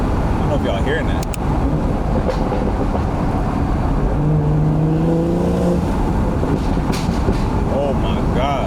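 Catless stage 2 BMW 440i intake noise heard from inside the car while driving, a dense steady roar with a short rising engine tone partway through, loud and continuous.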